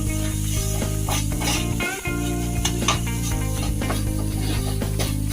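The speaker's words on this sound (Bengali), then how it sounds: "একটুখানি নাড়বো নেড়ে চড়ে।" Carrot halwa stirred in a pan with ghee, steady sizzling and frying under a persistent tonal hum, with brief scraping strokes and a momentary dip near the middle.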